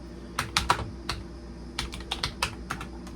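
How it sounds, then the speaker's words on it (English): Clicky keystrokes on a vintage Vendex Headstart Turbo 888 XT computer keyboard, typed in short irregular bursts with small pauses, close up and crisp with no voices. "Just a beautiful keystroke sound"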